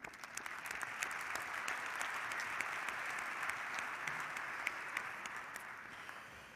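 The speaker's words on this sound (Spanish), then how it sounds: "Un aplauso para él también." Steady applause from a conference audience at the Basque Industry 4.0 Meeting Point, dense even clapping at moderate distance with no voices, holding for several seconds and easing slightly at the end.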